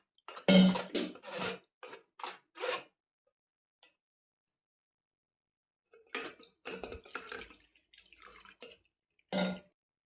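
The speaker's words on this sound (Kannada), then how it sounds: "ಬೇಯಿಸಿ ನೀರು ಹಾಕಿ ತೊಳಿಬೇಕು." Boiled sago pearls being rinsed with water in a kitchen pot, heard as close, intermittent bursts of sloshing and light clinking separated by quiet gaps, with no talking.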